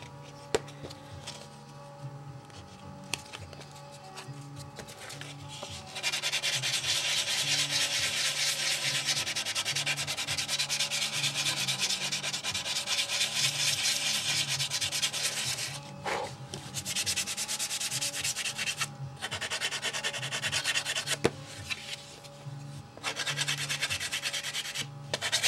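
Sandpaper rubbed steadily against wooden wing cowl blocks of a model airplane, a dense, continuous scratchy rasp up close that stops and restarts several times with short pauses between passes.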